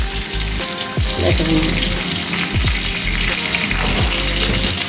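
Sliced onion and curry leaves hit hot oil in a pan and sizzle loudly and continuously, with a few stirring scrapes and a short spoken word over the frying.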